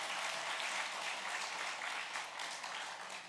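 A church congregation applauding during a Sunday morning worship service: steady, dense clapping from many hands that holds at an even level for the whole stretch, with no one speaking over it.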